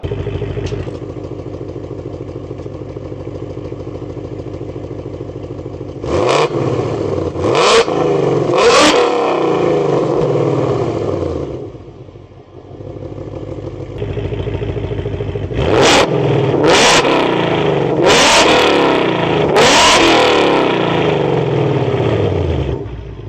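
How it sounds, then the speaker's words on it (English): A 2024 Ford Mustang Dark Horse engine idles with a loud rumble through its active exhaust, then blips through repeated sharp revs in two bursts, separated by a brief quieter lull. "kept the active exhaust for that particular reason, so that way we can go quiet"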